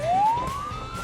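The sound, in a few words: fire truck siren driving to a fire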